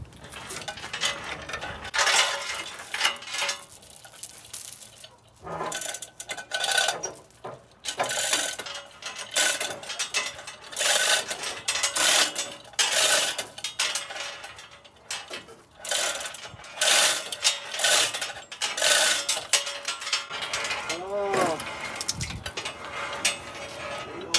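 Ratcheting hoist clicking repeatedly as it lifts the V8 engine out of a 1958 Dodge Power Wagon, bursts of metallic ratchet and pulley clatter with brief pauses, close and fairly loud.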